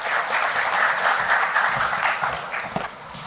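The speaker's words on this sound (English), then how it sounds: "Mr. Mohan, let's have a huge round of applause for him, please." A short burst of audience applause at a lubricant company event honoring a guest, a dense, steady wash of clapping that thins and fades toward the end.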